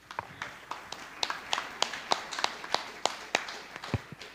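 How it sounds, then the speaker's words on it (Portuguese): A church congregation claps in a steady, rhythmic beat, the sharp claps fairly close and mid-loud with a soft murmur of the room behind them. "Salva de palmas para Jesus."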